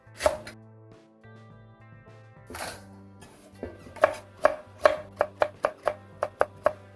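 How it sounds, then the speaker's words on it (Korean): Garlic chives being chopped by hand into short pieces on a cutting board, a few scattered knife strikes at first and then a quicker run of crisp, evenly spaced chops, close and clear with no talking. "부추 한 줌을 1, 2cm 길이로 잘라주세요"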